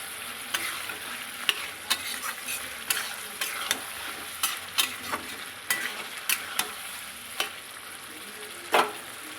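Snakehead fish stir-frying with radish, a constant sizzle under repeated sharp spatula scrapes and knocks against the pan at an irregular pace, close and fairly loud.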